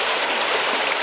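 River water rushes steadily past close by, a loud, even wash of flowing stream noise with no breaks.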